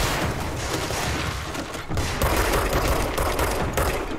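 Dense, continuous gunfire in the video game Control, a steady roar of overlapping shots and booms filling the whole span with a slight surge in intensity partway through.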